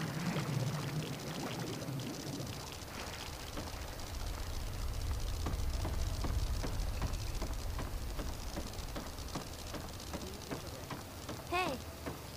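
Character thrashing and splashing in radioactive water while drowning in the video game Fallout 3, a steady watery churn with scattered splashes and a bubbling gurgle near the end, continuous throughout.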